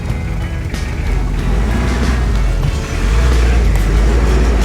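A car overtaking on a narrow mountain road in Northern Pakistan, heard from inside as a steady, loud rumble of engine and road noise that swells and grows heavier partway through as the vehicle pushes past.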